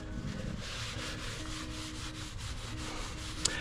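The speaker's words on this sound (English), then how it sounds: "I got 2 brand new shop cloths. I'm gonna use one to wipe it off and then one to dry it" Shop cloth rubbing degreaser off a surface, a continuous soft scuffing and wiping sound with rhythmic strokes and one small tap near the end, no talking.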